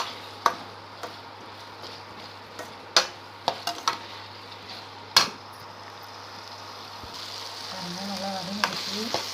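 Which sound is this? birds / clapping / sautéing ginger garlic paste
sautéing ginger garlic paste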